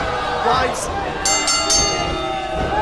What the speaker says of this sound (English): Blindside attack there from Trevor Lee as the bell rang